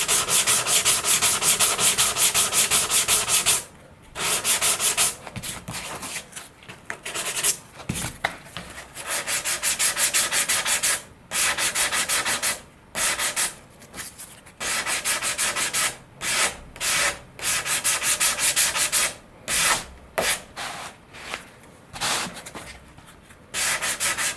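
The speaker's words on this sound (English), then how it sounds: "Alright, we're all cured up here with the filler, so time to sand. I'm going to use 220." Hand sanding cured filler on the pointed tip of a composite RC sailplane wing with 220-grit paper: steady rasping strokes in repeated bursts with short pauses, close and fairly loud, no talking.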